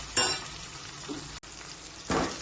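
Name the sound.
tomato sautéing with onion, garlic and chili for kadhi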